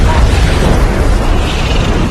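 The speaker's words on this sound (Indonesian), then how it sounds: "senjata yang dipegang Tobias pun jatuh dan mengenai ranjau dan ia akhirnya meledak" Loud landmine explosion in the action film Hard Target 2 (2016), a dense roaring blast with rumbling debris sustained throughout, with no clear speech over it.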